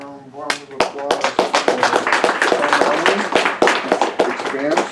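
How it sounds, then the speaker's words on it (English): An audience applauds after a presentation: many hands clap close together in a full, continuous round for about five seconds. "please give a round of applause"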